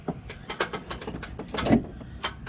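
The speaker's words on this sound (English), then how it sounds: "I'm going to take the belt off from the power steering pump" A serpentine drive belt comes off the power steering pump of a 2011 Toyota Tacoma with a 4.0L engine, making close mechanical clicking and squeaking rubs in short, uneven bursts.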